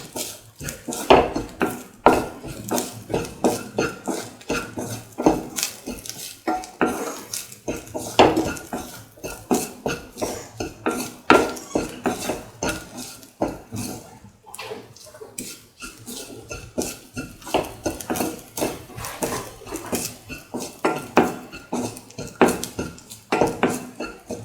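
Metal utensils scrape and clink against a pan while vermicelli, banana and coconut are stirred during sauteing, a busy run of rapid near taps and scrapes with no talk.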